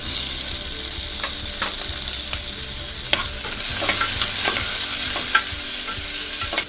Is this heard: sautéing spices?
yes